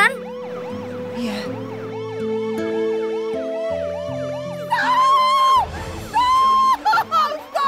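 A wailing ambulance siren cycles up and down repeatedly, close and loud, then shifts to a faster, harsher pattern with voices cutting in near the end.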